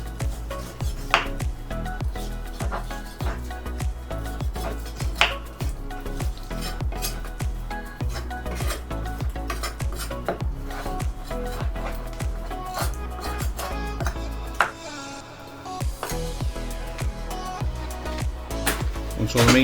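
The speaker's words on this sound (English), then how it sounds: "So I'm just going to run a knife down it and take the meat off." A knife scrapes and taps against a cutting board while meat is cut off a leftover cooked beef rib, a busy run of irregular clicks and knocks with kitchen clatter and background music-like tones throughout.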